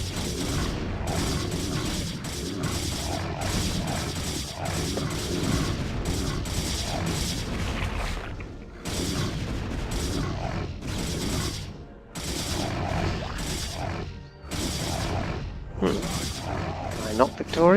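Dense, continuous gunfire and explosion bursts from a battle in the original StarCraft real-time strategy game, with a Protoss force attacking a Zerg hive, rumbling steadily and loud with brief dips; someone talks over parts of the clip.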